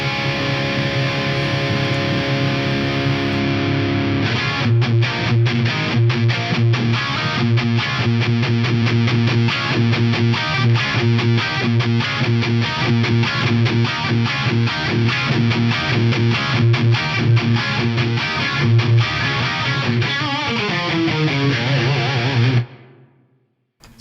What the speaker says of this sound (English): The tape saturation is pretty interesting. I've got some dynamic distortion in parallel as well, just for something a bit nastier.